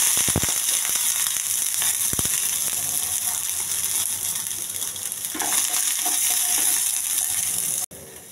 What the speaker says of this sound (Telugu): కరివేపాకు కొంచెం దోరగా ఎగించాలండి